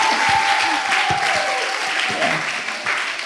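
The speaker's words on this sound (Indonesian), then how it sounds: "tepuk tangan buat kita semua" An audience at a student leadership conference session claps loudly and densely throughout, a close, sustained wash of many hands with no pause.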